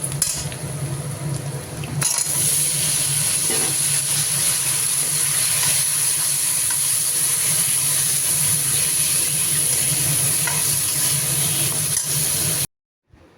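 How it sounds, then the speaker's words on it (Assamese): Onion and taro fry in hot oil, a loud, steady sizzling hiss running almost unbroken after a brief quieter opening, with occasional small clicks, then cutting off abruptly at the end; nobody speaks. "এতিয়া মই ৰৈ যোৱা তেলখিনিতে পিঁয়াজ এটা দি তাতে কচু কেইটামান দি প্ৰথমতে ভাজি লৈছোঁ"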